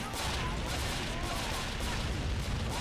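Artillery and gunfire from an Army Men trench battle video game, a dense continuous roar of battle noise with steady loud rumbling and crackling throughout and no clear separate shots.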